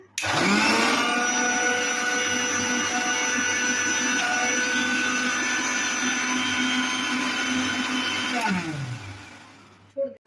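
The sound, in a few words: mixer grinder grinding fried onion into paste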